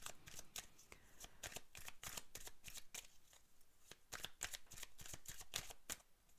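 Tarot cards are shuffled in quick, crisp riffles and flicks that repeat steadily throughout, close and fairly quiet.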